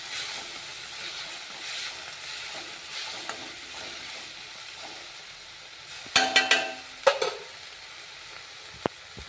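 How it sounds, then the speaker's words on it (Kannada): Tomatoes frying in oil in a pan for North Karnataka avarekai palya, a soft steady sizzle with a few sharp spatula scrapes and clinks partway through, close but fairly quiet. "ಸ್ವಲ್ಪ ಫ್ರೈ ಆಗಲಿ."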